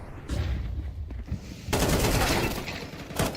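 Counter-Strike gunfire during a BLAST Bounty match between Wildcard and The MongolZ: short rapid bursts of shots, then a denser sustained volley, loud and close with no talk.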